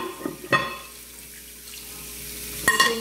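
Kitchen sink tap running softly while dishes are washed during dinner cooking, a quiet steady trickle punctuated by two sharp clinks of dishes or pans.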